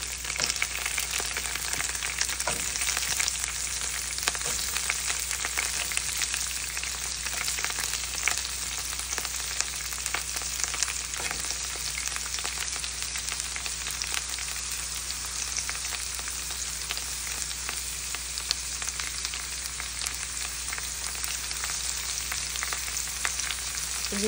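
Mint, green chilli and carrot frying together in a pan for khichdi, a dense continuous sizzle with crackling throughout, steady and moderately loud, no speech.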